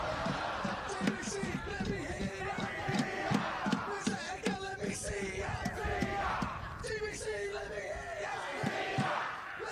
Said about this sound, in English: So the local boys rallying up the crowd.